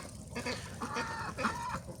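Ducks quacking in short bursts across the clip, several calls overlapping at close range with a steady outdoor background.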